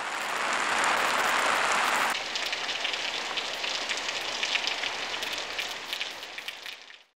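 Heavy rain pours steadily in a dense, hissing wash that stays loud throughout, then cuts off abruptly at the end.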